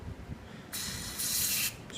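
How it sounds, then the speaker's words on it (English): An aerosol can of Liquid Wrench penetrating oil hisses in two short sprays onto brake pins, the second slightly longer and stronger, close up with no voices. "I'm going to take a little bit of liquid wrench,"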